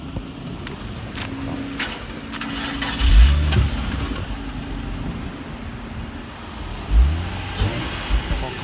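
A Nissan Fairlady Z sports car at an owners' meeting, its engine idling with a dry, raspy tone and two brief revs, heard outdoors with some background traffic and wind.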